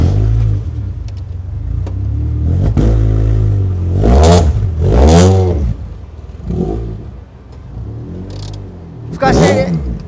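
A Mazda Roadster's engine revved in several rising and falling blips over a steady idle, loud and close, with people chatting nearby between the revs.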